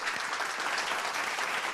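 An audience claps together at a lively Tamil stage event, a dense, even burst of applause that fills the short moment without pause.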